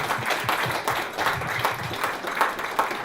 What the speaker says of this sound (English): I would like to give you all a round of applause for contributing to all this